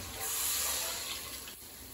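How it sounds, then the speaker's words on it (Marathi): Hot water poured into a pan while cooking a Kokan-style crab curry, a brief steady rushing splash that swells and then eases off, close by. "चला आता हे पाणी गरम झालंय. हे पाणी याच्यामध्ये ओतून घेऊया"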